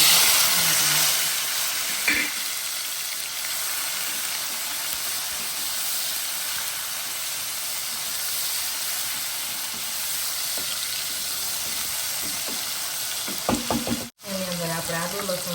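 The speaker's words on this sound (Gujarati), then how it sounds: "આપણે રાઈ તતડી ગઈ છે, તો એની અંદર આપણે હિંગ નાખશું।" Mustard seeds and asafoetida sizzle and crackle steadily in hot oil, a continuous close frying hiss with occasional pops, ending with a brief stir.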